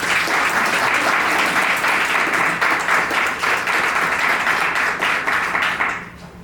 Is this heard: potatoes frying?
no